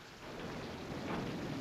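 A storm's rain pours steadily in the open, with rumbling thunder building in the background, a continuous, fairly loud wash of sound with no voices.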